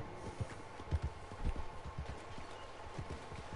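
Horse hooves in Red Dead Redemption 2, a soft clip-clop of steady hoofbeats in a walking-to-trotting rhythm, fairly faint over a low ambient background with no talking.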